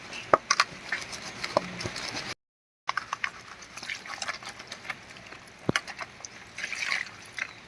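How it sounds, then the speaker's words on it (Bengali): Water is splashed and trickles while a freshly caught fish is rubbed with salt to remove its scales outdoors in a village, giving soft irregular patters and scraping that break off briefly and then resume. "এরকম করে ঘষবো আর জল দেবো, তাহলেই সব আঁশগুলো বেরিয়ে যাবে"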